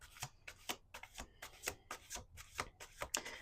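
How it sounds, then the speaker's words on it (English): Tarot cards being shuffled in quick repeated riffles, a series of crisp papery bursts close by with short pauses between them. "2 more shuffles."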